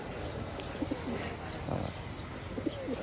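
Pigeons coo softly in a loft, with several short low coos spread through a steady background hiss.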